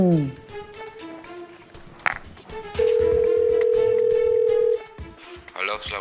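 A steady electronic telephone call tone sounds for about two seconds in the middle, between stretches of Indonesian talk and other room sounds.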